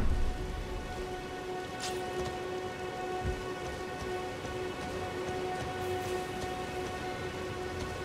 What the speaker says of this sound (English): Oh, got the rain.